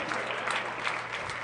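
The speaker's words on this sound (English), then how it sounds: "It was not full applause" Scattered audience applause at a live comedy podcast show in Denver: a steady, thin patter of clapping fills the short stretch, fairly even in level without a big swell.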